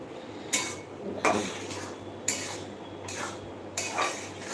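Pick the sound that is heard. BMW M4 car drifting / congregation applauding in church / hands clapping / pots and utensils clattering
pots and utensils clattering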